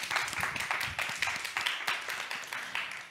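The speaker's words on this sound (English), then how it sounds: "warm round of applause for you." A faint round of applause from an audience at an online lecture on eco-centric politics, with steady overlapping claps lasting a few seconds and a little voice mixed in.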